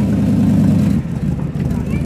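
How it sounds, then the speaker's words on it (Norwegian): A 1967 Ford Mustang's engine rumbles loudly and close by during a Saturday night drive-through, a deep low burble that dips slightly midway as a voice talks over it. "Det er en Ford Mustang fra 1967."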